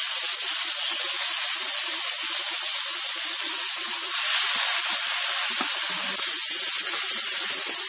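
Chicken pieces frying in hot oil or butter in a pan for a chicken lasagna, with a loud, steady sizzle and hiss that swells midway and carries on alone without talk.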